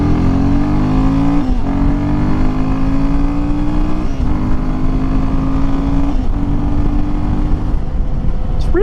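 A Royal Enfield Himalayan single-cylinder motorcycle accelerates hard onto a highway merge, its loud, close engine note climbing in pitch through several gears with brief dips at each shift, and wind roar underneath.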